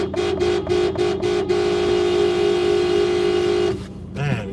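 Busy New York City street traffic as cars drive through a light, with a continuous engine and road roar and a long, sustained horn-like tone that cuts off near the end, followed by a brief voice.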